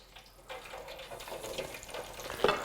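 Chicken strips sizzling in hot oil, a steady crackling fry with scattered pops and one sharper spatter near the end, close and moderately loud with no talking.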